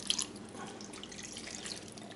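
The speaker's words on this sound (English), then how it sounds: "we're going to take our mixture, and we're going to basically pour that over the pork" Adobo marinade poured over raw pork in a home kitchen, giving a soft, steady liquid trickle and splash with a few small drips at the start, fairly quiet, with no talking.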